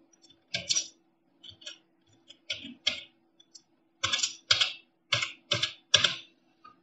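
Someone types a password on a computer keyboard: sparse, close keystrokes, first in scattered single taps, then a quicker run of evenly spaced clicks in a quiet room.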